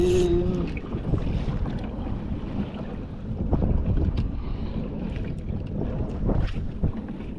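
Wind buffeting the mic during kayak fishing on the sea off the Philippines, a steady low rumbling roar with gusts rising and falling over lapping water, close and loud with no talk.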